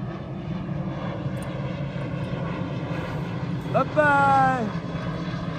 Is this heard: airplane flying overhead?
yes